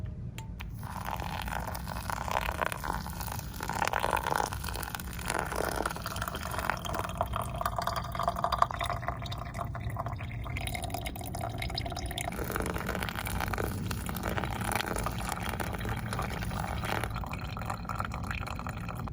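A coffee maker brews coffee and the coffee is poured, giving a steady bubbling, dripping and gurgling that continues near the listener for the whole stretch with no speech.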